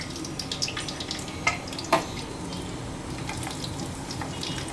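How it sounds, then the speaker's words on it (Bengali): Almonds, cashews and black and white raisins frying in a little oil and a tablespoon of ghee give a steady, close crackling hiss with a couple of brief sharper pops. "সামান্য তেল আর 1 টেবিল চামচ ঘি দিয়ে কিছু বাদাম আর কিশমিশ ভেজে নেব"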